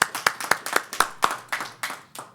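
About ten steady hand claps, evenly spaced and fairly quiet, ring out in a council meeting room as thanks to the city council.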